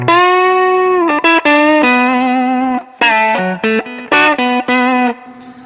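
An electric guitar runs through a lightly driven overdrive pedal, playing loud sustained notes and short melodic phrases with a warm, mildly gritty tone, no talking.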